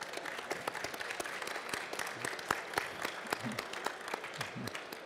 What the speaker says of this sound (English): a big round of applause for Nick.